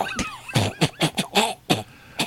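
A voice imitates a string of small, tiny kobold coughs during a D&D 5E tabletop game session, several short bursts spaced irregularly, fairly close and clear with no other talk.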